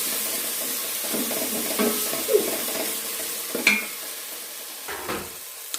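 Ginger and garlic stirred into cooked-down tomatoes in a pan, a soft continuous sizzle under a few scrapes and light clinks of a spoon against the pan.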